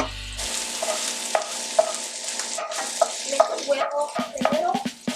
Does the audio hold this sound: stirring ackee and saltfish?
yes